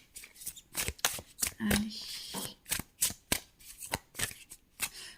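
Tarot cards are shuffled in quick repeated riffles and taps, a dense run of sharp papery bursts close by, with a brief spoken word partway through.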